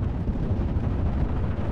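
Heavy artillery booms in the Steel Division: Normandy 44 World War II strategy game, blending into a continuous loud, low rumble of overlapping blasts with no pauses.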